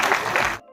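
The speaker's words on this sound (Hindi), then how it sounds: "सब जोरदार ताली बजा के स्वागत करें" A crowd applauding a wrestler at a welcome ceremony, a brief dense burst of clapping that cuts off abruptly.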